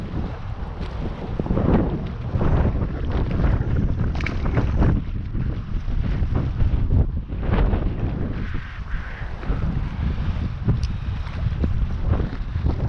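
Strong wind gusts of up to 40 mph buffet the microphone on a crappie fishing outing, producing a loud, continuous low roar with surging, rumbling bursts throughout.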